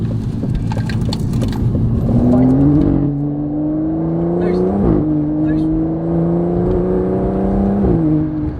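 An Aston Martin DBS Superleggera engine revs hard, its pitch climbing through repeated gear shifts, loud and close, with faint voices underneath.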